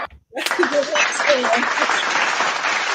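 Applause during a live podcast broadcast, a sudden burst of clapping starting after a brief silence and continuing steadily, mixed with voices talking over it.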